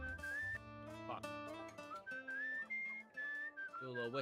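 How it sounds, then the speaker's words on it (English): A person whistles a wandering, melodic tune up close, with sustained clear notes broken by short pauses and quick slides, loud and alone without talk. "Do a little whistle tuning."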